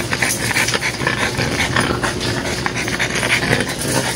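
Dogs at the Bocaue pet market, a busy dense din of panting and restless animal noise with clattering in the background, steady and close throughout.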